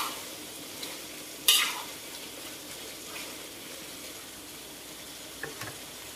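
Chili paste for chili prawns frying and being stirred in a pan, a soft continuous sizzle with one sharp scrape of the utensil early on and a couple of lighter clinks later.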